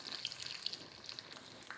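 Crushed garlic hitting hot tempering oil with mustard seeds already popped, a steady close hiss and sizzle with light crackles and stirring, no voices.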